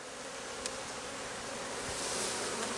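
Aggressive honeybees swarm around a beekeeper at an open hive, a dense, steady buzzing that fills the air close by and swells slightly toward the end, with no talking.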